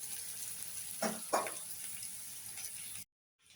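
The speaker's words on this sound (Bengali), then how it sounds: "পেঁয়াজটা একটু ভাজা হোক একটু লাল মতন হয়ে যাক" Onions frying in a pan give a steady soft sizzle with two brief louder stirring rustles near the middle, close and quiet, ending abruptly.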